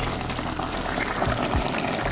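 A pot of spinach sauce thickened with powdered okra and cooked with smoked chicken simmers, giving a close, steady bubbling sizzle with small pops and gurgles.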